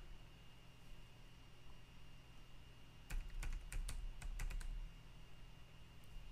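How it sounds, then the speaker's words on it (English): A short burst of quick typing on a computer keyboard, about a dozen crisp keystrokes in the middle of a quiet hum-filled room, no voices. "I keep wondering why nothing's working when I'm typing on the keyboard."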